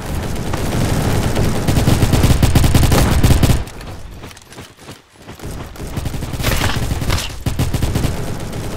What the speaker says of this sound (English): This gun is apparently a very strong gun.